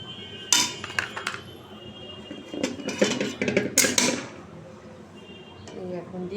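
Pot of potato and pea curry lifted off a stove, with several sharp metallic clanks and clinks of cookware scattered through, close and fairly loud, while a voice talks.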